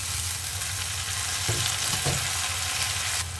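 Steady, close sizzling of two large chopped tomatoes frying with onions in a pan for capsicum chutney, with a couple of brief clinks of stirring partway through.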